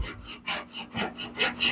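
A scraper blade rasps across a melamine router table top, scraping off dried spray glue in a series of close, loud, rhythmic strokes about every quarter second.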